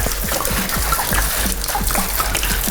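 Coconut rum glugging from a bottle into a kitchen sink used as a big mixing bowl for jungle juice, a loud, continuous close splashing pour with rhythmic glugs throughout.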